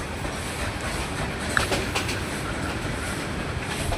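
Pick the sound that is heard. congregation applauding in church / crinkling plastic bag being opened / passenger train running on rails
passenger train running on rails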